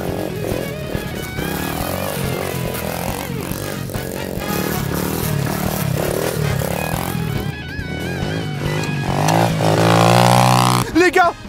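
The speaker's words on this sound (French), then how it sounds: "Les gars, Paquito a réussi à lever la moto de TMU." A cheap Temu motocross bike's small engine buzzes and revs harder as the rider lifts into a wheelie, climbing in pitch to a loud peak before cutting off, with voices talking over it.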